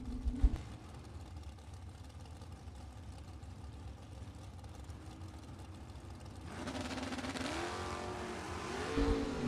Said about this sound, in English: Another wheels up launching that left lane for Wendell Curley.